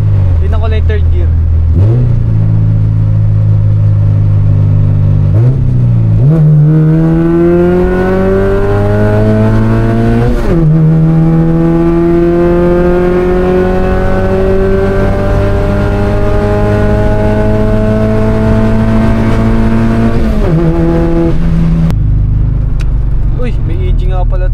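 A Honda Civic race car engine revs loudly and close, pitch climbing and dropping through repeated downshift blips in third gear, strong and continuous with a voice talking at times.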